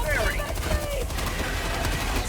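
Dense bursts of gunfire fill a Helldivers 2 battle, a sustained volley crackling continuously with no clear gaps.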